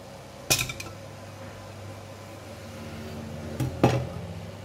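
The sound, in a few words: placing tofu into pot of boiling water to steam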